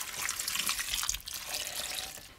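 Water pours steadily into a bowl while making a myoga flower pickle, a continuous bright splashing and gurgling stream that runs close and fairly loud for the whole moment, with no talk.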